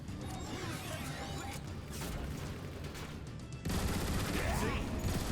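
Weapon fire in the robot shooter Transformers: War for Cybertron, a dense clatter of rapid shots and crashes, heavy and close, growing louder partway through amid battle noise.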